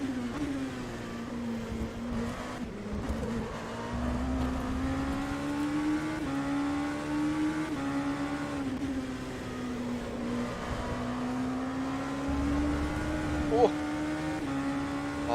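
Sim-racing race car engine at Monza in the Le Mans Virtual Series, a steady droning engine tone held across the lap with slight pitch rises and dips, shifting gears, and a brief sharp squeal near the end; a voice talks faintly underneath.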